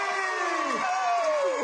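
Young children in a studio audience cheer loudly for a special guest, high voices rising and falling in drawn-out whoops over a continuous crowd roar.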